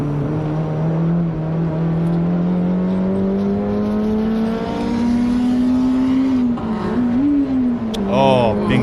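Race cars are drag raced down the front straight at Circuit of the Americas, a loud sustained engine drone climbing steadily in pitch, then a shift blip near the end with more cars approaching.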